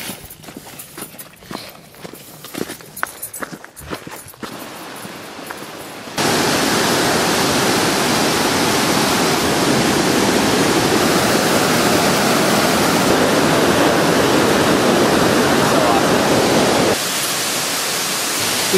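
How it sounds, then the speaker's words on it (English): A loud, steady roar of falling water fills the scene, preceded by several seconds of scattered rustling and footsteps-like knocks. "We just reached the waterfall"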